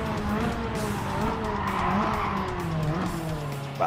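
A Ferrari F8 Tributo in Gran Turismo 7 at Autodrome Lago Maggiore loses its rear end, its engine droning steadily under long, wavering tire squeals throughout, loud and close.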